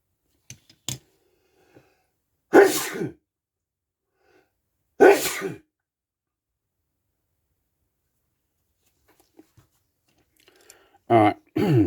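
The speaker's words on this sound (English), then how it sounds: "I had to sneeze there" A single sharp human sneeze, close and fairly loud, stands out in a quiet room. A few small clicks and breaths are scattered around it, and short bursts of speech come before and after.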